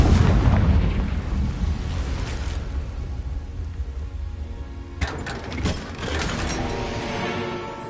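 Hogwarts Legacy's Confringo blasting spell goes off as a deep rumbling blast that slowly decays, followed by a sharp second impact with crackling, clattering debris and fizzing tail.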